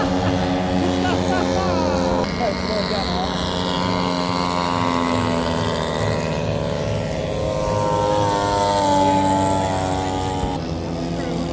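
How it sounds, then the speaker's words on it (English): World War I warbird airplanes flying overhead at a 2018 WWI rally in East Bend, North Carolina; a loud, continuous droning engine roar that stays strong throughout. "We got World War I planes everywhere."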